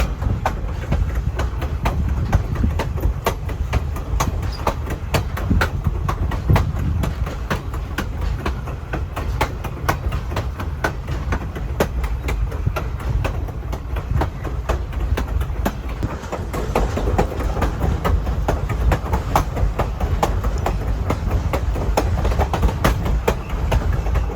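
The Grand Canyon Railway train rolls steadily on its rails, a loud continuous rumble with a running clickety-clack of wheels over rail joints, heard from inside the moving train for the whole stretch.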